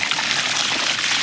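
Water gushing from a burst pipe, a steady, loud broadband rush like heavy spray that holds constant and close throughout with no talk over it.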